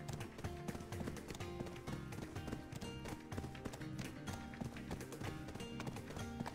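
A horse's hooves clip-clop in a steady running rhythm in the game Black Desert Online, mixed with dense in-game sound and music.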